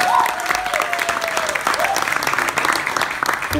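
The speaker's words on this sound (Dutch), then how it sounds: "Dat is een groot applaus voor Lars." A small audience claps steadily for a young drummer at his first performance, a drum student's debut, with dense clapping held throughout and a faint tone sliding under it early on.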